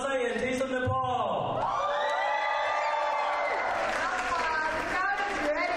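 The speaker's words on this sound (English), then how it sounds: "Make some noise if you're excited for Dasai and Days in Nepal." A crowd at a Nepali Dashain festival event called Taste of Nepal cheers and whoops loudly, with high shouted voices rising and falling continuously and close by for the whole stretch.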